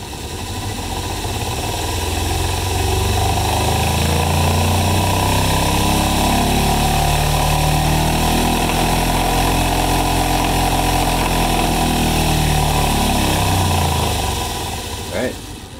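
A motor winds up and back down through changing speeds, a steady droning hum with rising and falling tones that stays loud and close for the whole stretch.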